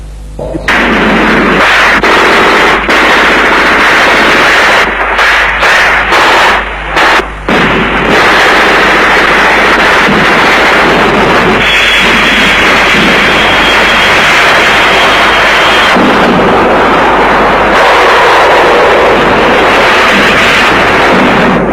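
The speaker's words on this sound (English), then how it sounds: "comes under ferocious artillery bombardment" Heavy artillery bombardment and gunfire in a war setting roar loudly and continuously, with dense overlapping blasts and bursts and a few brief dips, harsh and close.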